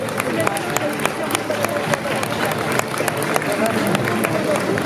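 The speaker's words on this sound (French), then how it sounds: "On l'applaudit encore," A crowd at a cosplay event catwalk show claps for a cosplayer, a dense, steady round of applause mixed with murmuring audience voices that continues without a break.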